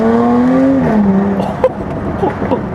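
Supercharged 3-litre V6 of a Jaguar F-Type V6S revs loudly and close, its pitch rising then sagging, followed by a few sharp crackling pops as the throttle lifts.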